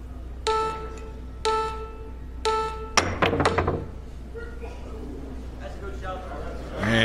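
A jump shot at a professional nine-ball match leaves the cue ball thudding on the table bed several times in an even rhythm, then a sharp clack of balls colliding, with a commentator's voice and hall ambience around.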